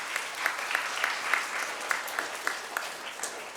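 Moderate applause from a congregation at an Islamic center honors a teacher, a soft, fairly distant clapping crowd with a few crisp individual claps punctuating the steady patter.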